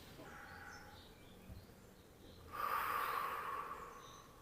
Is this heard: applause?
no